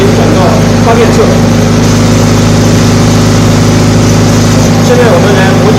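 A diesel generator set runs loud and close with a steady, humming drone, feeding power through an automatic transfer switch while someone speaks over it.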